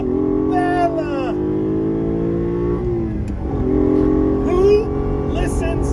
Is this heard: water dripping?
no